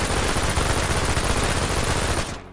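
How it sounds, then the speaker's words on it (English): Fast-firing guns such as a P90 shooting in a video game, a dense continuous burst of rapid automatic fire, loud and close, cutting off sharply at the end. "Pretty fast, fast-firing guns, these."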